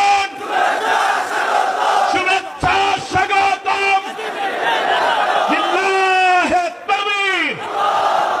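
A large crowd at an outdoor Islamic sermon gathering in Cox's Bazar roars the takbir back in loud, repeated unison shouts, alternating with a leader's amplified calls.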